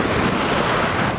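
Surf washing onto a beach in steady broadband wash with wind buffeting the microphone, loud and close, no talk.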